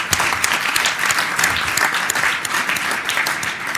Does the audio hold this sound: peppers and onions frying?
no